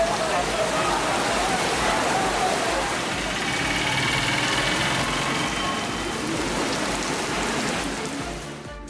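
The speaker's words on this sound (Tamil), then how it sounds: "பலத்த காற்றுடன் மழை பெய்தது." Heavy rain pours steadily over a Tamil Nadu area during a sudden downpour, a dense loud hiss of drops with gusting wind and the low rumble of passing vehicles beneath.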